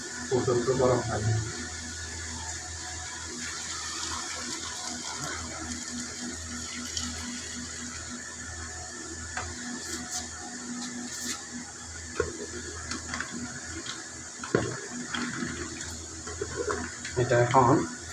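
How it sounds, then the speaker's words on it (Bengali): Boiling hot water is poured into a pot of browned goat bone curry, giving a steady close pouring and sizzling wash with scattered clinks, while a person talks over it. "এখন এখানে ফুটন্ত গরম পানি দেব"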